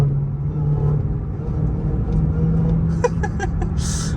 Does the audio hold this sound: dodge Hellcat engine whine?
yes